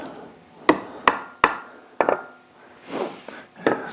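Hammer striking nails on an anvil during blacksmith practice, a series of sharp, close metallic blows at an uneven pace with short gaps and a softer scuffing sound between them.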